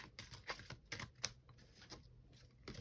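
A deck of cards being shuffled in short, quiet bursts of riffling and tapping, with brief pauses between, close by and faint.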